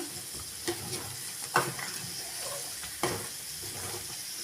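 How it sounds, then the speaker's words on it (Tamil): Quiet frying sizzle of potato masala with a few soft scraping knocks of a spoon stirring in a pan, spaced irregularly. "இடையில கொஞ்சம் கலந்து விட்டுக்கலாம்"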